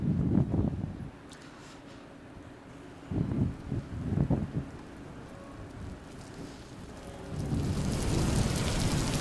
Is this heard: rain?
yes